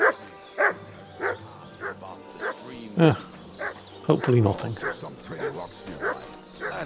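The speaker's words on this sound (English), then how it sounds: "What's Mutt barking at?" Mutt, the dog companion in the video game Kingdom Come Deliverance 2, barks in short repeated bursts at a moderate distance while someone talks over and between the barks.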